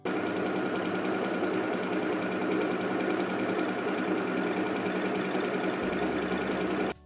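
A sewing machine stitches folded lehenga lining and main fabric in a steady, continuous mechanical whir, fairly quiet and close, running alone until it stops abruptly near the end.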